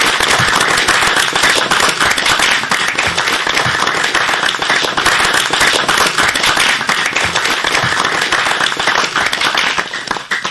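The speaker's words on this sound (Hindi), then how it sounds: "सब लोग ताली बजाएंगे।" Audience applause at a school children's program: steady, loud, dense clapping from many hands fills about ten seconds without a break, then begins to thin right at the end.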